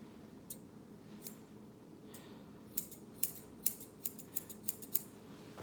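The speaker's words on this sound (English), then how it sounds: "So you can make the curved line, oh, there you go, with the straight shears." Straight hair-cutting shears snip through hair close by, a few sparse cuts at first, then a quicker run of crisp metallic snips in a steady rhythm with no talking.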